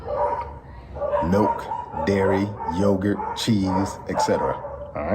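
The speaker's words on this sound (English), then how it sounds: "those dogs barking is a Can't control dogs" Dogs bark and yip outdoors, several repeated bursts in uneven clusters, fairly loud and close, overlapping someone talking throughout.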